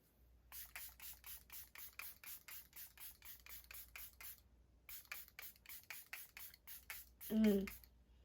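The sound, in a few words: setting spray being misted on face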